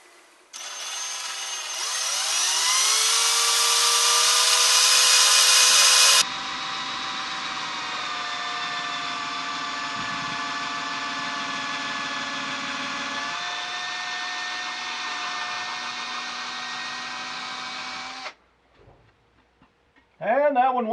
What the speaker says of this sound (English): Okay, we're going to drill her by hand.